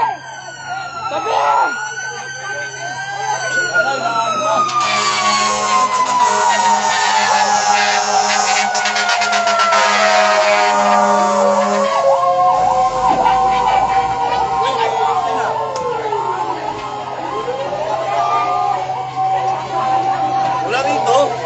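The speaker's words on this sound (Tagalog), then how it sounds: "Ayun na, may bumbero na." A fire truck arrives at a street fire in Cubao, Quezon City, its wailing siren sweeping up and down loud and close, with horn blasts and people talking and shouting over it.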